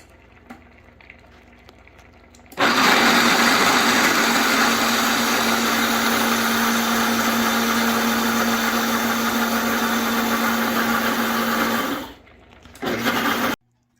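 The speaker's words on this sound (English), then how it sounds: "So we are going to blend this." Countertop blender whirring at full speed through coconut cashew cream with herbs and vegan seasoning salt for butternut mac and cheese, a loud steady roar that starts abruptly, runs about ten seconds, dips, then briefly restarts before stopping.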